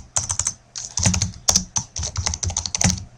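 Fingers type on a computer keyboard in quick, close clicks, with irregular runs of keystrokes and brief pauses between them.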